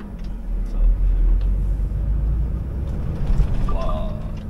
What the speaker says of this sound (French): J'ai un 20 pieds chargé à 22 tonnes. Vous avez entendu là comment ça patine.